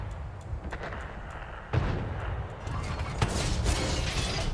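A tank's main cannon fires in a German tank battle video game, a sharp booming blast followed by sustained rumbling, with further heavy impacts and battle noise continuing behind it.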